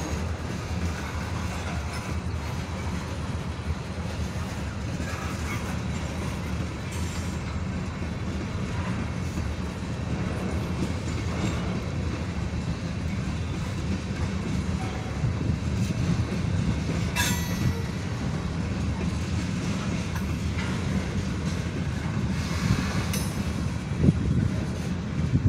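A Wisconsin Southern freight train rolls steadily past a crossing, a continuous low rumble of railcars with occasional wheel squeals, holding close and even throughout with no talk.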